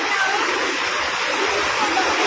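River water rushes over large rocks in San Juan, Libertad, Antique, a loud, continuous churning roar heard up close with no pauses.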